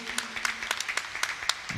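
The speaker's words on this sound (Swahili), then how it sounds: "tumpigie makofi mazuri." A church congregation at a Kikuyu-language service claps for a guest, a quick, uneven run of sharp individual claps, moderately faint, with a voice heard faintly underneath.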